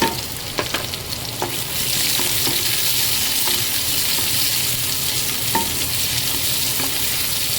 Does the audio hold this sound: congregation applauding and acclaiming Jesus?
no